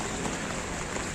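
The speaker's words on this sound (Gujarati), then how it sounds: "આજે વરસાદ સતત ચાલુ છે" Steady rain falls at the Rajkot Lok Mela fair in 2024, a dense, even hiss of drops on wet surfaces and water, continuous and close with no pauses and no voices.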